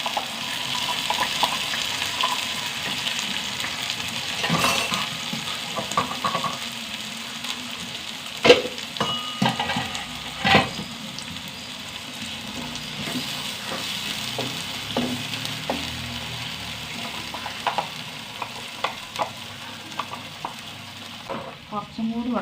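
Masala paste frying and being stirred in a pan for a quick okra curry, a steady soft sizzle with intermittent scraping clicks of the spoon, close up, with a few faint murmurs in the background.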